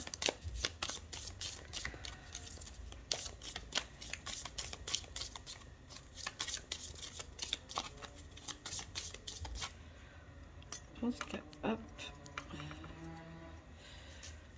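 Tarot cards are shuffled up close in a rapid, crisp riffling patter that continues for several seconds, then gives way to a few softer slides and taps of cards being handled.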